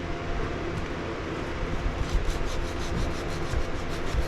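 Wood is hand sanded with thick Norton finishing emery cloth in a steady rasping, rubbing rhythm of repeated strokes, close and fairly loud, with no speech.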